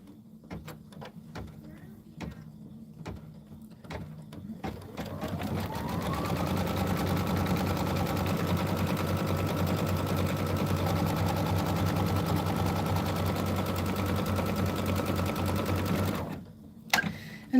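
A home embroidery machine stitches a placement line for a quilt block, its needle hammering in a steady rapid buzz for about ten seconds after a few scattered clicks and a brief whirring ramp-up, then stopping abruptly.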